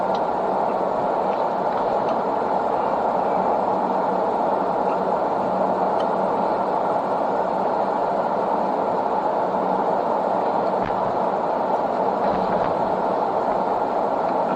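Steady, loud rumble and rattle of a train at a train station, a continuous broadband roar with faint ticking clatter throughout and no talking.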